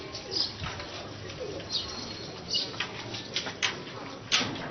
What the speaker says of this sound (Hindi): ये सारे मामदीन कमगर गोल्डन कबूतर प्रिंस कमगर हैं।